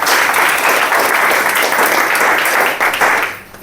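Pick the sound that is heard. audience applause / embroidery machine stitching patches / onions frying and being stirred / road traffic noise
audience applause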